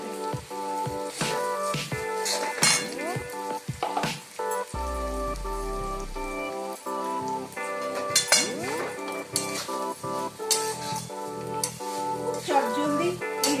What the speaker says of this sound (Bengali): এবার এই চিড়েটা আমি এর মধ্যে দিয়ে দিলাম কড়াইয়ের মধ্যে।